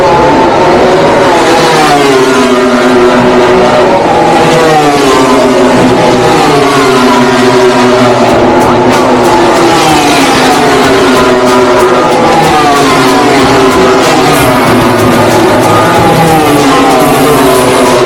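Racing sport bikes scream past on a track one after another, their high revving engines rising and falling in loud, sweeping passes that overlap continuously for the whole stretch.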